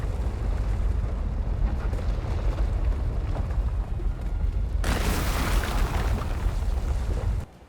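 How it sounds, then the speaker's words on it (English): A low, sustained rumble of a sinkhole tearing apart a coffee shop in Fortnite swells into a loud crashing roar of collapse midway, then cuts off abruptly. "When a sinkhole formed, destroying the coffee shop."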